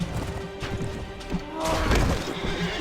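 Horses whinny amid the clatter and thuds of a medieval battle in Mount & Blade: Warband, with crashes and mixed combat noise at moderate loudness.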